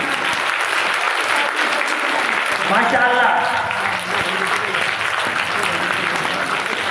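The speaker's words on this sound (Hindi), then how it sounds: "तालियों की आवाज तहसील तक पहुंचनी चाहिए आपकी" Loud, sustained audience applause fills a conference hall at a girls' madrasa event in Budhana, a dense steady roar of clapping that runs the whole seven seconds while a voice briefly calls out over it.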